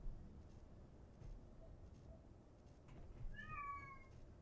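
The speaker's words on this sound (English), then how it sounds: "Cat." A cat meows a couple of times near the end, the short rising cries clear over a faint, steady indoor background hum, with no talk.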